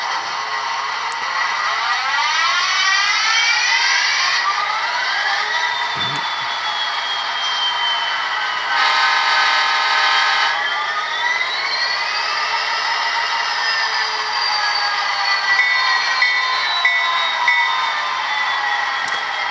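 Sound-decoder engine of an HO-scale BNSF SD60M locomotive model, a steady whining diesel drone with rising and falling tones and a horn-like burst midway, continuous and fairly clear.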